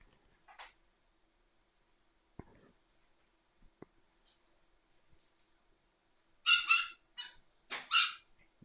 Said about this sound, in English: Sorry, my dog's going nuts. She just liked to bark.